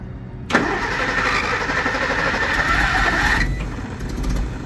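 Carbureted engine of a 1956 Willys Jeep cranks and catches quickly, then runs at a fast, steady idle close by, settling slightly lower toward the end.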